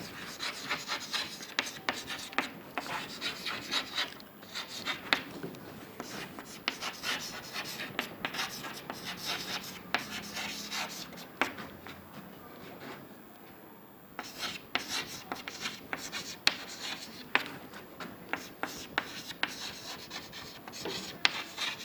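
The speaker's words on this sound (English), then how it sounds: "I will be writing some words." Words written by hand during a basic maths lesson on sets, giving a steady run of close, scratchy rubbing strokes with brief pauses between words and no talking over it.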